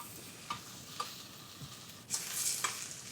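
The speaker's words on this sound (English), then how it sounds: "So now we'll let the onion brown a bit." Onion fries in ghee in a pan, a soft, steady sizzle with a few light clinks and stirring scrapes, growing briefly louder near the end.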